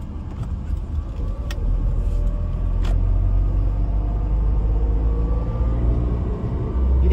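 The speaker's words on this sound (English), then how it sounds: "And then I'll accelerate again to 45." A car accelerates on the road back up to 45 after leaving a speed-limited zone, giving a continuous loud low engine and road rumble that swells steadily, with no talk.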